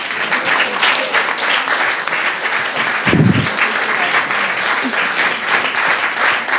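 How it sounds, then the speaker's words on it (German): An audience at a German-language themed conference day applauds steadily, a dense even wash of many hands clapping that holds for several seconds. "Applaus."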